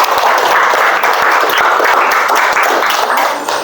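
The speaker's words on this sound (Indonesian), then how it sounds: "Oke, kita beri aplaus buat kita semua dulu." A classroom of students breaks into loud, steady applause, dense clapping filling the room for a few seconds and tapering slightly at the end.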